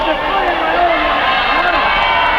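Wrestling arena crowd at Hollywood Legion Stadium shouting and jeering at a wrestler, a dense continuous roar of many voices filling the hall at close range.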